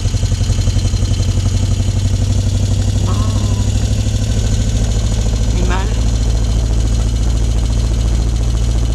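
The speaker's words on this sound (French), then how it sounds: "Ils s'amusent avec leur quad." A quad bike's engine runs steadily nearby in a loud, continuous idle-like drone, with a few brief higher tones rising over it and faint background noise.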